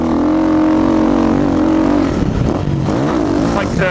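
A motocross bike engine at full throttle on a smooth track, a loud, close, strained drone that holds steady, then wavers and shifts pitch as the revs change.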